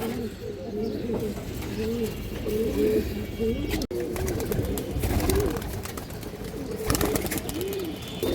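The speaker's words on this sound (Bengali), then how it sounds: "এটা হচ্ছে সিলভার অ্যালমোনিয়াম সিলভার কবুতরের বাচ্চা" Repeated soft cooing of young silver pigeons close by, overlapping calls in a gentle rolling rhythm, with a brief bump midway and some background noise.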